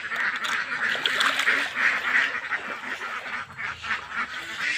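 Farm ducks around a pond stocked with snails, a dense chorus of nasal quacks and honks calling over one another in a steady, moderately close stream without speech.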